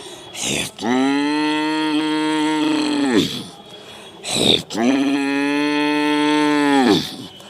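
A person imitates a cow mooing, giving two long, low, drawn-out moos separated by brief breaths.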